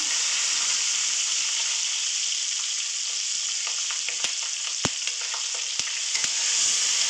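Onion and green chilli frying in oil with whole spices for mutton kosha, a loud, steady close sizzle with sharp utensil clicks and taps scattered through the second half.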